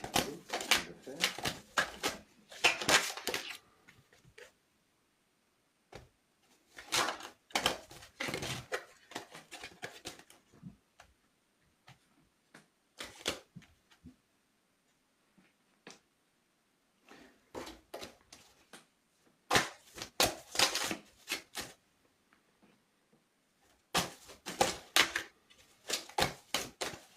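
Tarot cards are shuffled and cut again in several separate bursts of rapid, dry clattering and riffling, each a few seconds long with quiet gaps between, close and moderately loud.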